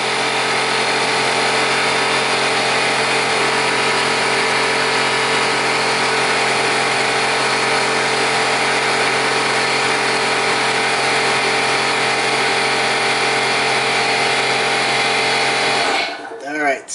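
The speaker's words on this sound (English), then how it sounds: "Compressor's kicking in, of course, as soon as I try to say a word." An air compressor runs with a loud, constant droning hum, steady throughout before cutting off near the end, in a garage during an oil change on a 2007 Toyota Tundra.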